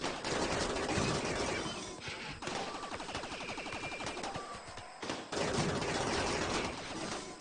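Sustained gunfire from defensive turrets in the colony-building game RimWorld, a dense, continuous rattle of rapid shots that runs through the whole stretch with brief breaks, fairly loud and without talk.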